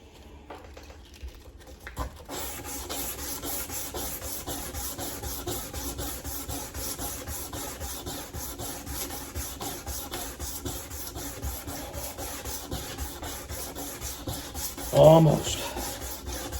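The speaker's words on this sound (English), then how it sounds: "I might even finish it with this one piece of sandpaper" Sandpaper rubbing a machete blade flat in steady, continuous back-and-forth rasping strokes, close and even, with a brief louder scrape near the end and a single short spoken word.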